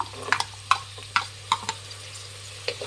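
A spoon stirs carrots and beans in a frying pan, with a quiet background sizzle under about seven distinct scraping knocks at an uneven pace, near and clear.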